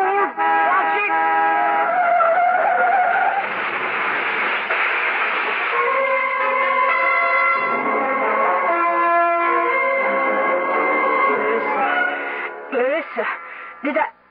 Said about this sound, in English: Was that the sound of a car crash?